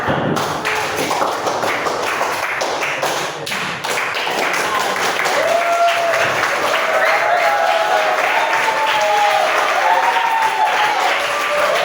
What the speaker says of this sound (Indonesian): Tepuk tangan lagi nih untuk setiap.